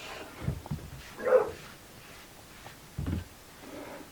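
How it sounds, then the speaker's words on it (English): A pet dog chasing a neighbour's cat off gives a few short, separate woofs at moderate distance, with quiet gaps between the barks. "Ignore the woof. That was my dog just chasing next door's cat off."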